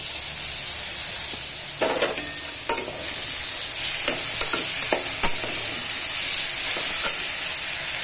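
Tomato and masala with a few peanuts frying loudly in a pan, a dense, constant hiss and sizzle close up, broken by scattered stirring clicks and taps, no voices.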